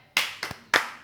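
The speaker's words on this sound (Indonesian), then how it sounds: "Yuk tepuk tangan untuk kita semua." A group claps together in a short rhythmic spirit clap at a child protection training session, three sharp, close claps.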